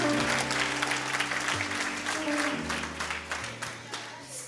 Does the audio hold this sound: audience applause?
yes